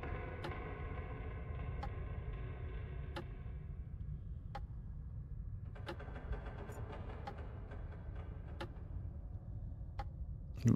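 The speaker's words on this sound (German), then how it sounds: "Warum höre ich hier ein Klicken von einer Uhr?" Clock ticking in the video game Black Mirror 3, sharp faint ticks at irregular spacing over a low ambient drone, with no talk.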